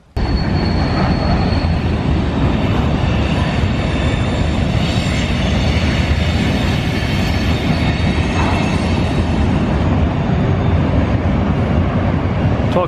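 A train passing through a wooded valley makes a loud, continuous rumble of wheels on rail, with faint squealing and clicking, and its sound echoes around the surrounding hills from start to finish.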